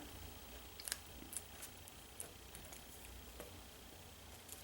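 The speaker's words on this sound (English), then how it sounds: "Cut another magazine piece for the center of the flower." Scissors snipping through a magazine page for a paper flower craft, a few faint, sparse crisp clicks and snips spread over a quiet background, no talking.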